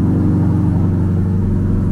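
A Chevrolet Corvette C8 Liberty Walk build idles steadily on a lift in a garage, its engine giving a low, even rumble with a harmonic hum, close and continuous with no talk.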